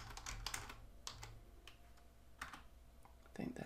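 A password is typed on a computer keyboard, with quick clustered key clicks in irregular bursts close by, then a short pause and a final flurry.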